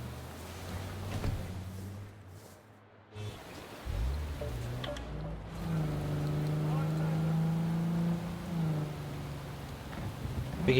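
A car being driven in Cyberpunk 2077, with a steady low engine drone that rises into a louder harmonic whine as it accelerates, running continuously with a brief drop partway through.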